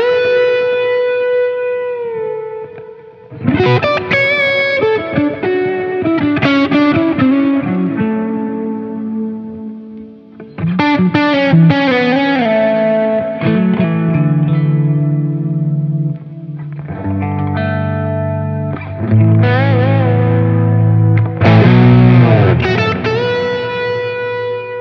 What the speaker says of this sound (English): I'm gonna kick on a tube screamer and we're gonna check out all three pickup positions